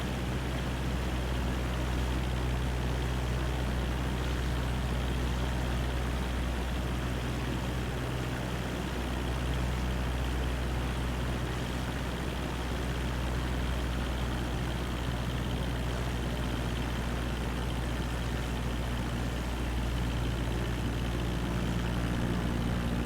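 An aircraft engine in Microsoft Flight Simulator 2020 drones steadily and loudly with a deep, constant hum and a stable tone, unbroken from start to finish with no voices over it.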